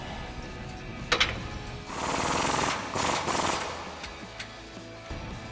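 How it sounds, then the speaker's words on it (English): An impact wrench with a 27mm socket tightens a nut on a 2014 RAM 2500 front suspension leveling kit: a brief click, then a rattling, hammering burst of about two seconds, pausing once, in a quiet garage. "Then we're gonna get our impact and our 27mm socket and tighten it down."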